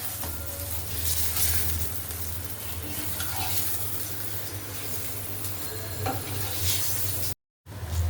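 Cabbage goes into hot oil rendered from meat in a home kitchen, and a loud, steady sizzle and hiss follows with occasional stirring scrapes. It is briefly cut out near the end, and nobody speaks.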